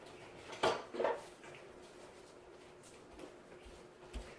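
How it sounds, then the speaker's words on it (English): Two sharp clinks of a utensil against a bowl while mixing seasonings for spatchcock chicken, followed by quieter scattered taps and light scraping, close and without talk. "and now I'm going to mix this up."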